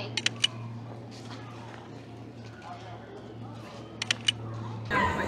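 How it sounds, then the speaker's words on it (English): Hasselblad-branded camera shutter sound on a OnePlus 9 Pro phone, a few short crisp clicks near the start and again near the end, over a steady low hum. "the first thing that actually you hear, literally hear, from this partnership is the new camera sound"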